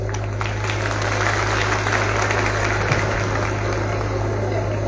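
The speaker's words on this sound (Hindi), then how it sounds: "और हम सब कर्तव्य ध्वनि से एक बार तालियों से अभिनंदन।" An audience applauding to welcome a dignitary at a teacher appointment-letter distribution event in Darbhanga: a dense wash of clapping over a loud, steady hum from the public-address system, continuing throughout.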